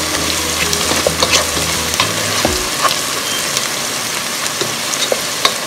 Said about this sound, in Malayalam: സവാള ഫ്രൈ ചെയ്യാനുള്ളത് ഞാൻ ഇവിടെ ഇട്ട് ഇടയ്ക്കിടയ്ക്ക് ഞാൻ ഇളക്കി കൊടുക്കുന്നുണ്ട് കേട്ടോ.